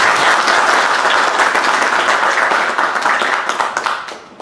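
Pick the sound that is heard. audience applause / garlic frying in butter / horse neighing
audience applause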